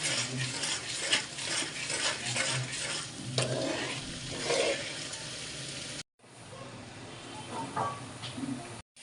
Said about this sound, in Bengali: এখানে হচ্ছে পেঁয়াজ আর কাঁচামরিচ বাইটে দিচ্ছি